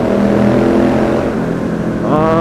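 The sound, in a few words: Triumph Street Scrambler 900 motorcycle engine revving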